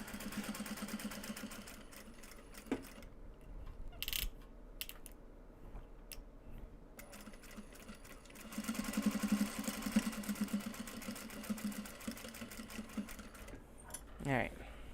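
Sewing machine runs back and forth over a seam while an obi is upcycled into a bag, its fast motor whir stopping and starting in bursts, with quiet pauses and a voice talking between runs.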